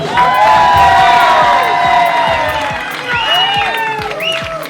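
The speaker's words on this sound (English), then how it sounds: "the more noise you make, the more you laugh, the more you cheer, the better they're going to do" A Las Vegas live show studio audience cheers and applauds, dense clapping mixed with shouts and whoops from many people, loud and sustained throughout.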